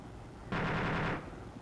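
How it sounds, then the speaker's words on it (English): Rapid automatic gunfire in the military shooter game Arma 2, a single burst of just under a second that rises abruptly out of quiet background and cuts off, moderately distant and unaccompanied by talk. "Alright, so my guy's shooting"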